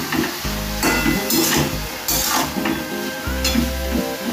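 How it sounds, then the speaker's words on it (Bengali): Spice masala stir-fried with fried bottle gourd in a pan, a loud, close sizzle broken by repeated scraping stirs of the spatula, with no talk. "এবারে মশলাটা দিয়ে দেওয়া হচ্ছে, ভালো করে কষতে হবে।"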